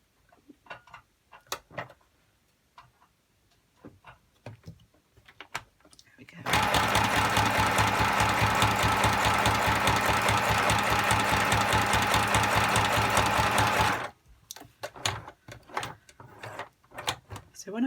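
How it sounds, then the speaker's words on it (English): A sewing machine runs a zigzag stitch just in from the edge of a simple junk journal, buzzing loudly and steadily for about seven seconds, with quieter handling clicks and taps before and after. "I'm going to stitch the corner and then I'm going to try and show you how I go around the corner"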